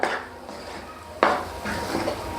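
Moong dal halwa stirred continuously in a pan, with metal spoon scrapes and clanks against the pan, two sharper knocks standing out, close and without talk.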